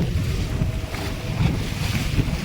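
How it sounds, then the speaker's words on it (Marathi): Fishing boat engine rumble with wind buffeting and choppy waves slapping around it on a rough sea, the boat lifting on swells; a steady, loud wash of noise with no voices. "समुद्र भरपूरच खवळलेला आहे तुम्ही पाहू शकता होडी कशी वर उचल घेत आहे"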